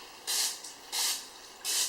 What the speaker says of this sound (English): take some Pam, or any type of misting cooking spray